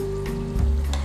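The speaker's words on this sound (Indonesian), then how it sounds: "Gorengnya apinya nggak usah terlalu besar, karena kita nggak mau kentangnya itu sampai kering depannya." Potato pieces frying in oil in a pan over moderate heat, a steady close sizzle that swells briefly with no talk.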